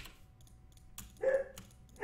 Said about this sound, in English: sorry if you guys hear my dog in the background